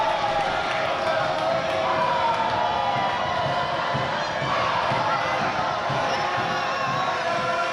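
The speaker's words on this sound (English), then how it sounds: "Lots of excitement from the crowd" Crowd at a boys' varsity high school basketball game against Allentown, cheering and shouting in a dense, loud, continuous roar in a gym during foul shots, with excited voices and whoops throughout.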